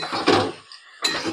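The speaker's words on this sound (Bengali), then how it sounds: "কড়াইতে আমি খুন্তির সাহায্যে মেখে নিচ্ছি।" Coconut and jaggery being mixed in a wok with a metal spatula, giving two short bursts of scraping and clinking close up, separated by a brief pause.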